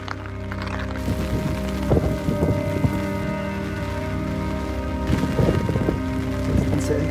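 Steady rain falls during an outdoor tour at Northern Blossoms in stormy typhoon weather, a dense close hiss that persists throughout, with a low droning hum underneath and no talking.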